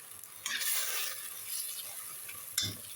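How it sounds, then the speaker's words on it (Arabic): Kebab meat stirred in a cooking pot as it browns, giving a soft scraping, sizzling texture with brief louder bursts of spoon movement near the start and end, close by and without talk. "نقلب"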